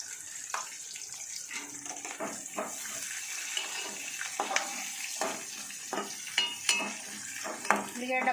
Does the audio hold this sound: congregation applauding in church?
no